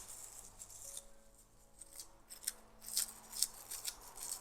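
Scissors cut dried herbs at close range, giving a quiet series of crisp snips that grow more frequent toward the end.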